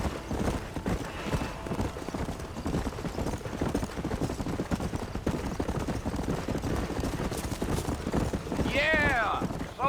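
A horse gallops steadily in the Red Dead Redemption video game, its hooves pounding in a fast, continuous rhythm with a brief whinny near the end.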